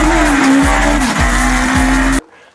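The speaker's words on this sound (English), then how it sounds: "you can hear like the electric motor in there just like" An electric motor in a Chinese tram fitted with a 4-speed transmission, running in first gear, gives a steady whine with a few repeated low swoops beneath it before cutting off abruptly.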